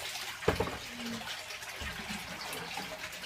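Water splashes as tilapia fingerlings are tipped into a tote, one sharp splash followed by softer sloshing and trickling, close and moderately quiet.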